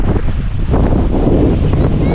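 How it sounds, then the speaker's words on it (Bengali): Strong wind buffets the microphone on a boat in a constant low roar, with faint water sounds beneath and no clear talk. "যদি এইখানেই এত হাওয়া লাগে"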